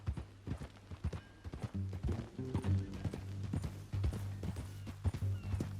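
Horse hooves clip-clop in a steady walking rhythm in Red Dead Redemption 2, with game music and ambient sounds underneath.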